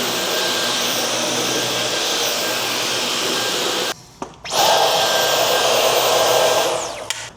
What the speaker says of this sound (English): I'm gonna vacuum my house